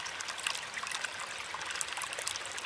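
Water trickling and pouring steadily onto a tree in a cartoon, a continuous faint splashing stream with no talk over it.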